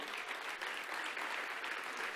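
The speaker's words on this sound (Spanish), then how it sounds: "Dale un aplauso al Señor." Dense applause from a large church congregation fills the whole moment, steady and even without pause.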